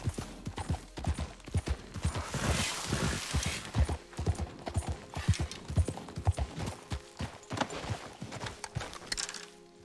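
Horse hooves clip-clop steadily in Red Dead Redemption 2, a dense, fairly loud run of hoof strikes with faint mechanical rattle, carrying on for the whole stretch without talk.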